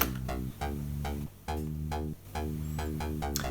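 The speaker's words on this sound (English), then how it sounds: "You hear how it's a pretty bright bass sound," A bright, buzzy synth bass plays a choppy rhythmic pattern of short repeated notes, loud and alone with brief gaps between phrases.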